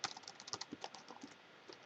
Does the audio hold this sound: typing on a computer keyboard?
yes